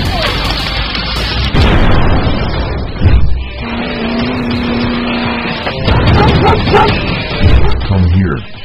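A dog barks in a police robot car video game, a few loud yelping barks mixed with game noise and engine rumble, with a voice talking over parts of it.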